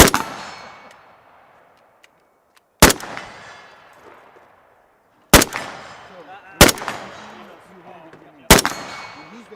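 Century Arms VSKA rifle fired outdoors: five sharp, loud single reports spaced a second or more apart, each ringing off into a decaying echo, with faint talk between shots.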